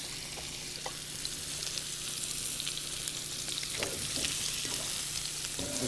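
Burger patties sizzle and crackle in a hot pan, a steady, close frying hiss with a few faint clinks.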